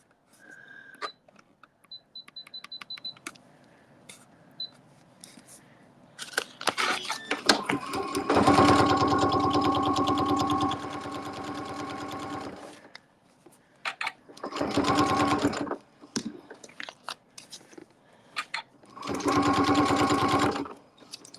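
A sewing machine runs in several bursts while stitching across the bottom of a log cabin quilt block. A few small beeps and clicks come first, then one long loud close run and two shorter runs.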